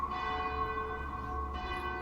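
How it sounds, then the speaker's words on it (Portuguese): A church bell tolling, its long ringing tone sustained and resonant with a second strike renewing the sound partway through, heard alone and fairly close. "Após o badalar do sino e o padre fechar a igreja"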